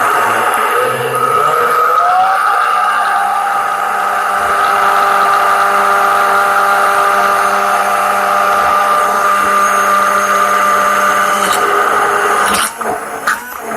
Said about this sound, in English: my Vitamix stick blender, and I'm going to blend this.